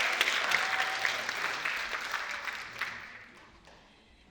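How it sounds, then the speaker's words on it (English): An audience at a community tea-and-stories event applauds warmly, the clapping strong at first and then gradually fading toward quiet near the end. "So let's thank him, please. Clap for him."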